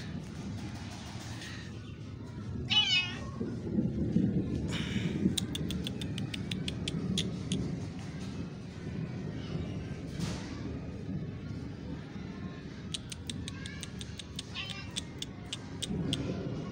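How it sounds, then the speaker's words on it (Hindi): A cat meows a few times at moderate distance during a monsoon drizzle in Karachi, faint calls over a low rumble of passing road traffic and background ambience. "बिल्ली।"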